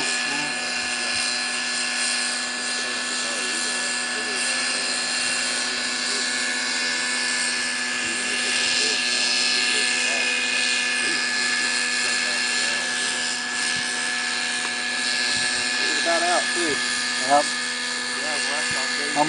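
A TREX 600 Nitro Pro RC helicopter hovering outdoors in some wind, its nitro engine and rotors giving a continuous high buzzing whine that holds steady throughout, with people talking over it.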